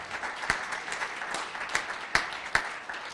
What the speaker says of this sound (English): let's give him another big round of applause, you guys